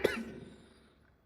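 A single short cough at the start, then near silence before another sharp burst at the very end.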